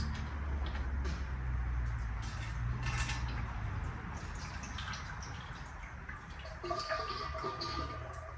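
Differential fluid drains from the rear differential of an AWD Honda CR-V into a drain pan, a steady wet trickle and dripping that runs the whole time, with a few faint metallic creaks and clicks near the pan.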